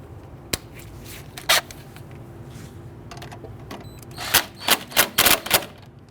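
A nut is tightened on the front driver's side CV axle of a 2008–2013 Infiniti G37 with a ratchet, producing sharp rapid clicking bursts, a few isolated clicks early and a cluster of loud ratcheting runs near the end.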